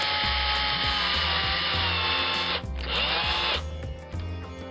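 A power drill with a 1.7mm bit bores into a post on a Chevrolet Corvair under restoration, whining loudly and steadily, dipping briefly as it bogs down and then resuming.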